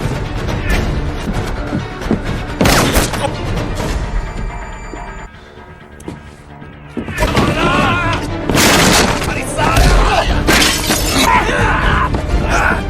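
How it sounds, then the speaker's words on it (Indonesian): Sniper fire from a rooftop in a Yakuza revenge action film comes as loud gunshots, crashes and shattering impacts mixed with dense soundtrack and voices, dipping briefly in the middle before the chaos resumes. "ada penembak jitu yang menembak mereka dari atas gedung"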